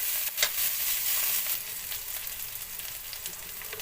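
Onion and ginger sautéing in a pan, a steady close-up sizzle and crackle with a few sharper pops and stirring, no voices.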